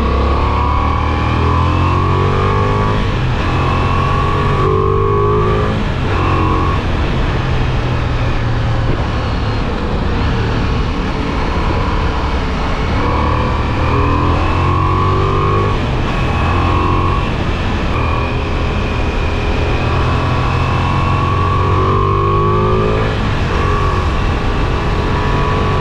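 A Ducati Multistrada V4S motorcycle accelerating hard in third gear, a loud continuous engine roar rising in pitch through repeated surges, with heavy wind noise throughout and no speech.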